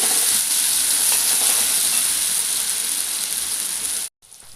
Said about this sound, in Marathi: आणि पेस्ट छान अशी तेल सुटेपर्यंत परतून घ्यायची आहे